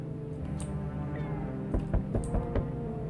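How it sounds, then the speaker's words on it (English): A cat meows several times in short, close calls, mid-loudness over a steady background hum, during a Halloween house game. "I heard the cat."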